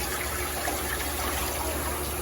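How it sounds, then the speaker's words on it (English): Water poured steadily into a cooking pot while making jambalaya, a constant close gushing stream that stays loud and even the whole time, with no talking. "So I'm going to pour in 8 cups."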